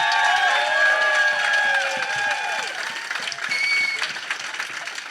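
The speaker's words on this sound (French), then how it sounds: "n'oubliez pas d'encourager, d'applaudir." Audience at the start of a live show applauding and cheering, a dense wash of clapping with high whoops and whistles over it, steady for several seconds.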